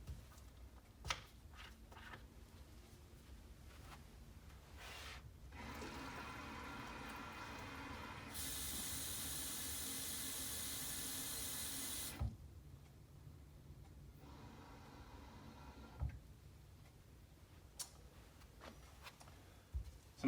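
Water topping off an agricultural spray tank during tank mixing, a steady broadband rush of pouring and splashing that swells louder for several seconds in the middle, with intermittent clicks and faint handling noises around it.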